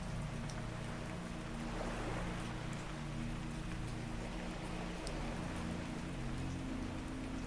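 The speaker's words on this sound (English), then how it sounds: "Beneath the rain, the engine hum continues with the same steady note." Steady low engine hum aboard an overnight ferry bound for Norway, with continuous rain patter and wash of waves layered over it, an even, unbroken drone throughout.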